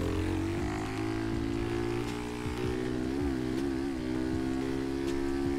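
A Honda Pop 110i motorcycle ridden in GTA V makes a continuous, close small-engine drone that shifts pitch as it revs, with brief rises and dips and no talking.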